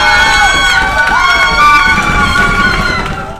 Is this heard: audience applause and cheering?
yes